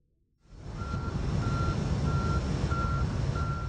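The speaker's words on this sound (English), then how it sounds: "This tanker is delivering sulfur." A tanker truck delivering sulfur idles with a loud diesel rumble while its reversing alarm sounds five evenly spaced beeps, starting abruptly after a brief quiet.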